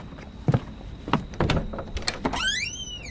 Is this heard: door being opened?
yes